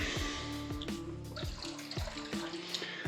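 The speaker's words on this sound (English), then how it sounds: "That tapping brings the gold back up to the tip." Repeated sharp taps on a gold pan holding water and gravel to settle gold, a series of distinct knocks over a continuous wash of sloshing and trickling water, fairly close with no talk.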